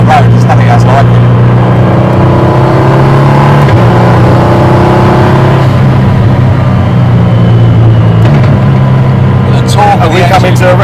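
A Praga Bohema hypercar engine drones loudly while driving, its pitch shifting as it changes speed, with people talking over it.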